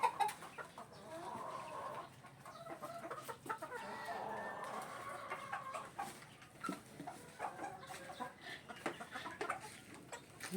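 Young roosters, ten stags in a multipurpose pen, cluck and murmur softly in a steady scattered stream, faint and close with no speech.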